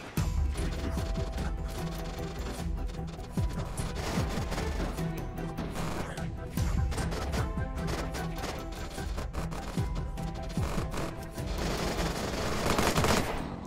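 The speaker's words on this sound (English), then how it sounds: "I've been shooting at him for quite a long time now." In the video game Unturned, sustained gunfire pours into a zombie, rapid overlapping shots forming a loud, dense, continuous barrage with mechanical clatter throughout.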